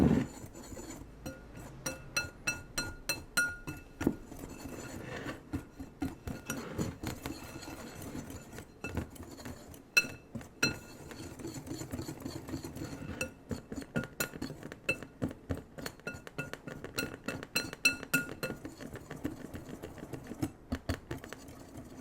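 Brownie batter of vanilla, flour, cocoa powder, baking powder and salt being lightly mixed in a bowl, with a fast, steady run of close clinks and taps of utensil on glass, continuing with only brief pauses.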